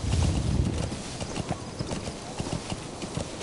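A horse galloping in Metal Gear Solid 5, its hooves sounding a fast, steady clip-clop rhythm close up, loudest at the start and then running on evenly, with no one talking.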